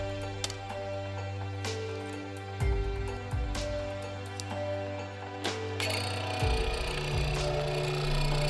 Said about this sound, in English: I'm just using my mortising machine here to hog out most of the waste.